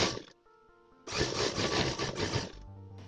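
Sewing machine stitching blouse fabric, a short whirring run of rapid needle strokes, close and steady, between quieter pauses with a low hum.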